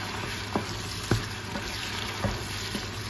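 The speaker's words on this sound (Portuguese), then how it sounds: "Agora vou colocar aqui um filinho de vinho e vou deixar aqui a refogar mais um pouco" Squid sautéing in a pan after a splash of wine, a dense, even sizzle throughout with a few soft utensil taps at intervals, close and with no voices.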